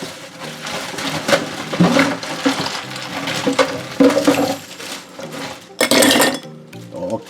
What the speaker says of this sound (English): Putting in some ice.